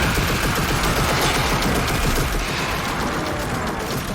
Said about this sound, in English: They're shooting their own ship?